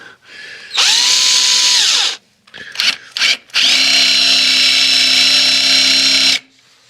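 A cordless power drill works at a broken exhaust flange bolt on a 1974 Volvo 164e, with a loud whine, a pause, a few short stuttering bursts, then a long steady run that stops abruptly near the end.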